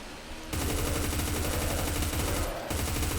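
An MK-16 MOD 2 rifle, fully upgraded, fires in Roblox Deadfront: a loud, sustained rapid-fire burst of rhythmic shots with a brief break near the end before firing resumes.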